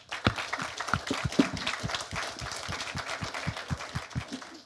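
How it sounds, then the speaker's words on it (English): An audience at a business event gives a round of applause to a panel, steady clapping with distinct individual hand claps close by, moderately loud and continuous without speech. "if you could join in me in giving a round of applause to the panel for the hard work"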